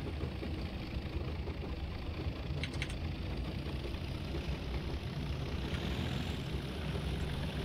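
A Class 37 diesel locomotive in Train Simulator 2018 climbing a hill on the Riviera line in the 1950s drones with a steady, low, rumbling engine note, constant and unbroken, with no talking.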